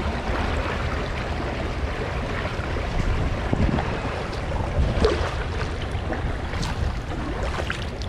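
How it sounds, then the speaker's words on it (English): Floodwater surges through a river swollen after Hurricane Ida in New Jersey, a loud steady rushing roar close by with wind buffeting the microphone and no talk. "Yeah, a lot of water moving there."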